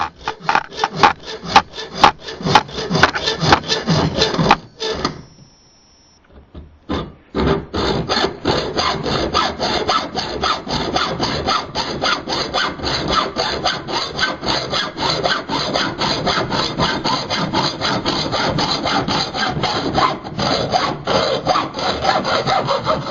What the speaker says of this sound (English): this is going to be a little bit harder to cut than the PVC, but it shouldn't be too difficult